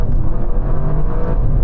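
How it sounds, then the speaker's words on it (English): Loud, close engine roar of an Audi RS6 Performance car accelerating hard, a continuous deep drone that holds steady for under two seconds with no talk. "let's take this new RS6 Performance for a hoon."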